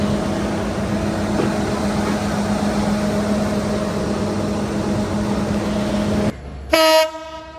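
The Benapole Express passenger train rumbles steadily and loudly for several seconds, then a brief horn blast sounds near the end.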